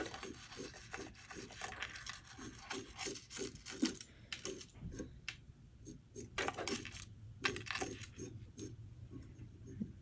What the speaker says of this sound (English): now you can grab your dubbing brush. You know, brush the dubbing fibers down.